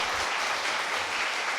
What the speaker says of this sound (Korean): 우리 큰 박수로 우리 축복하겠습니다